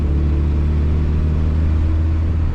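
An old car drives along with its key pulled from the ignition, its engine and road noise forming a loud, steady low rumble with no break.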